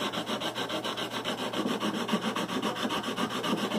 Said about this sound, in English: And there's some residual light sanding that's going on the rest of the block.